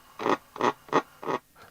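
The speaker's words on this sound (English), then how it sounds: "That's the sound of your ridges on your finger moving across the stylus and being amplified." A fingertip brushes across the stylus of a powered record player, and the amplified scratchy rubbing comes through as five evenly spaced bursts, fairly loud and close, with no talking.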